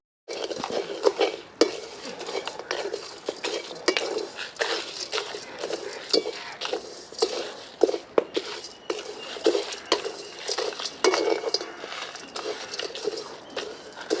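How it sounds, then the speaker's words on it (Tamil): Turmeric root dry-roasting in a pan for Jaffna curry powder, with steady scraping and stirring, pieces pattering and rattling against the metal, and occasional sharper clinks throughout. "இந்த மஞ்சள் கிழங்கு இவ்வளோத்தையும் நாங்கள் இப்போ வறுத்து போட்டு ஏற்கனவே வறுத்து வச்சுருக்கிற கொத்தமல்லி செத்தல் அதோட சேர்த்து போட்டால்"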